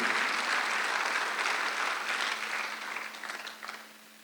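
A church congregation claps together during a Sunday worship service, a dense roomful of applause that stays full at first, then thins and tapers off toward the end.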